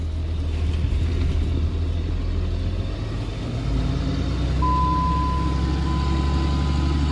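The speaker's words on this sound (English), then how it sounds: "So I just gotta drive it up and park it." A vehicle with a freshly swapped transmission drives slowly and evenly, its engine giving a low, steady, close rumble throughout with a faint whine late on, no speech.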